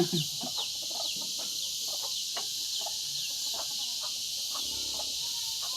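Rooster and hen clucks and calls from a farmyard, scattered short calls over steady high insect-like hiss, fairly distant.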